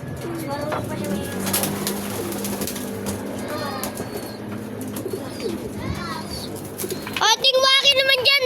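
Domestic pigeons cooing in a loft of about 56 birds, soft repeated calls over a steady bed of ambient noise, with children and adults talking nearby and a burst of louder voices near the end.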